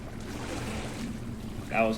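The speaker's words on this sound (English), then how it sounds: "That was the sound of something else splashing in the water." Something splashes into water in a Doom game map, a soft watery slosh against a steady wash of ambient water noise, with a brighter burst near the end.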